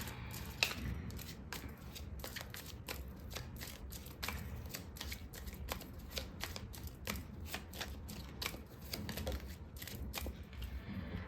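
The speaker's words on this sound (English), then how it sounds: "let's pull out few tarot cards and let's get into the reading after that" Tarot cards being shuffled and drawn, with a steady run of crisp riffling snaps and flicks close up over a soft background hiss and no talking.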